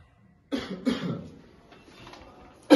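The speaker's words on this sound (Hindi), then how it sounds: "मुझे ना 2 हफ्तों से खांसी है बस" A person with a two-week cough lets out a pair of harsh, close coughs in quick succession, then a faint breathy pause and another sharp cough at the end.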